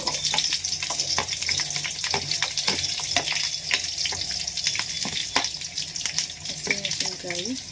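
Onion with green chilli, ginger and garlic frying in oil in a pan for paneer gravy, a steady close sizzle with scattered crackles and spoon scrapes throughout, no talking.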